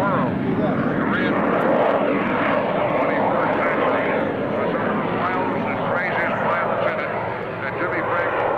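Jet-powered Waco biplane flying a wingwalking act with Jimmy Franklin at the 2003 Dayton airshow: a loud, steady, broad engine roar that holds throughout, with voices over a public address underneath.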